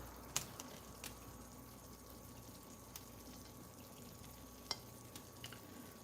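Potato slices dusted with seasoning salt cook slowly in oil, giving a steady, faint, even sizzle with a few soft clicks and pops scattered through and no voices.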